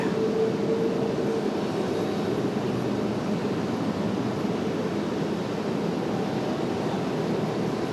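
Lufthansa Airbus A330 airliner arriving at Raleigh-Durham on a gusty day, a steady broadband engine roar held at an even level for several seconds with a faint whine near the start and no voices.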